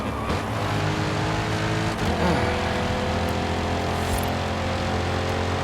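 A 2024 Chevy Corvette E-Ray, the all-wheel-drive hybrid C8, racing in Forza Horizon 5: a loud, steady engine drone with a pitch sweep partway through, close and continuous, with no talk over it.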